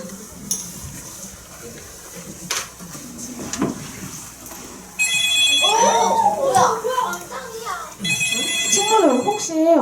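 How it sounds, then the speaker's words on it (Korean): A telephone rings in bursts of rapid electronic trills, two clear rings in the latter half, amid clatter and people talking nearby. "전화 소리가 들리는 것 같아?"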